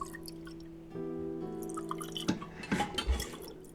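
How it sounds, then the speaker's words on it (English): Tea pours in the video game Book of Hours, with a short steady trickle and soft ringing tones, then a few light drips and clinks of porcelain, quiet and close. "Seems to me like I should also be pouring some tea."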